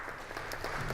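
An audience applauds a poem reading, a dense patter of many hands clapping throughout a short burst.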